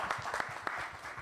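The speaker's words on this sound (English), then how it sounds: "they deserve a round of applause" Scattered audience clapping at a discussion on investment promotion and sustainable development, a fairly faint, uneven patter of separate hand claps heard alone.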